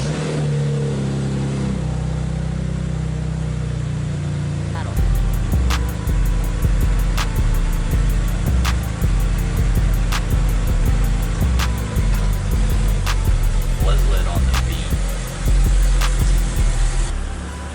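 Inside a BMW, the sunroof motor hums as the sunroof slides open, a steady mechanical drone over a running car with repeated faint ticking clicks throughout, fairly loud and close.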